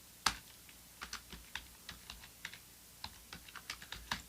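Fingers tap out a location on a computer keyboard, a series of light, close, irregular key clicks with brief pauses between bursts, quiet and with no voices.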